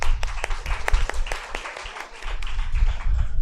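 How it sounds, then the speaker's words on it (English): Applause from an audience at a two-day international commerce conference, a steady wash of clapping with scattered sharp claps standing out over low room rumble. "A big round of applause for them."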